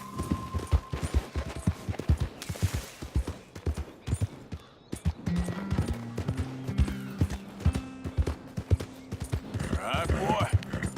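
Horse hooves clip-clopping at a quick pace in Red Dead Redemption 2, a steady run of close, rhythmic thuds under game music and occasional speech.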